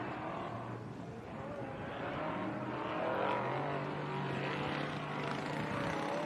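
A race car's engine roars at a distance during an off-road desert race, a low steady drone that swells slightly midway and stays under faint background noise.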